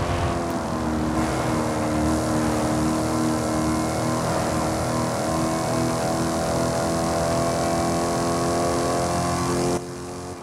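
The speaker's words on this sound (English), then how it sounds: "This engine delivers a sonorous exhaust note" A 2010 Maserati GranTurismo S with a 4.7-liter V8 in Forza Horizon 5 holds a steady, loud, sustained engine drone and exhaust note for about ten seconds, ending abruptly, with no talking.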